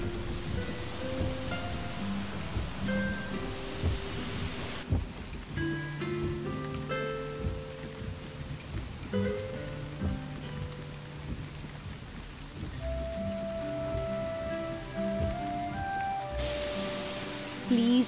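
Steady heavy rain falls at night, a continuous close wash of drops on surfaces with a distant rumble of thunder, under soft background music.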